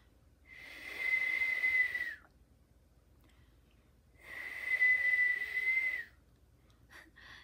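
Two breathy, airy whistles, each lasting over a second with a faint steady tone buried in rushing breath, separated by a quiet pause.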